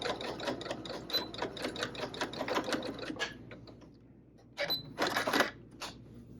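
Sewing machine stitching fabric, a rapid mechanical rattle of needle strokes running for several seconds, pausing, then a couple of short bursts, close and clear with no talking.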